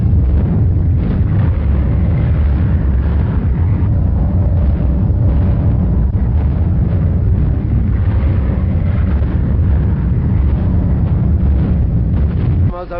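Wartime newsreel explosions over France and Europe come through as heavy, continuous low rumbling and booms on an old, muffled recording, with a narrator speaking over them.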